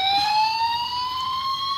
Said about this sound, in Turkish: Hadi sirenlerini çalalım.